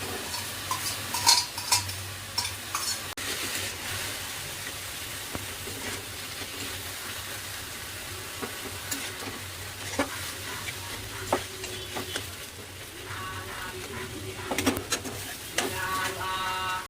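Boiled moong dal being stirred into a pumpkin leaf dish in a pan, with scraping spoon strokes, occasional utensil clinks and a faint sizzle, close and uneven.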